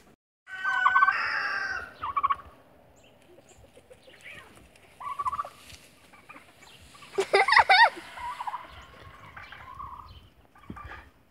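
Chickens and turkeys on a farm being fed, with clucks, a rooster crowing and gobbling calls in loud bursts separated by quieter gaps, close by, with faint voices in the background.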